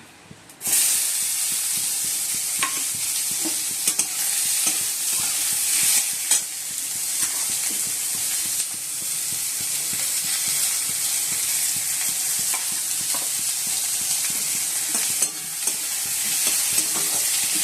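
Onions frying in oil in a home kitchen pan, a continuous loud sizzle and hiss with a spatula scraping and stirring through the pieces, no talking.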